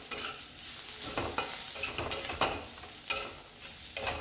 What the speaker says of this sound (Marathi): आता आपण याच्यामध्ये खोबरं, लसूण आणि कोथिंबीर घातलेलं वाटण टाकूयात। छान असं परतून घ्यायचं।